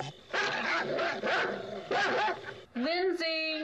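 A dog barks repeatedly, fairly close, a run of sharp woofs followed by a higher yelping whine at the end.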